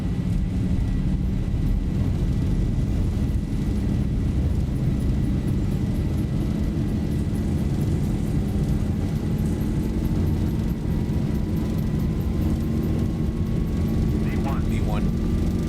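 Airliner engines roaring steadily through a takeoff roll in the X-Plane 12 flight simulator, a constant loud broadband rumble with a slowly rising whine, ending with brief clicks.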